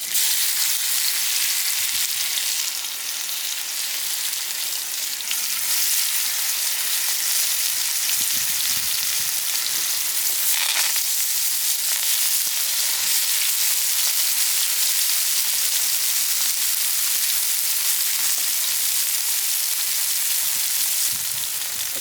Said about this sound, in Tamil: இப்போ மீனை போட்டு பொரிக்க போகிறோம்